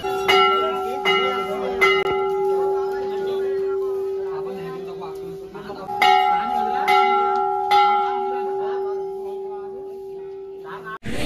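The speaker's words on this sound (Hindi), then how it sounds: "और ये है यहाँ की सबसे बड़ी घंटी" The largest bell at a Hindu temple rings with a long, sustained metallic hum, struck again partway through so the tone swells anew, while someone talks quietly beneath it.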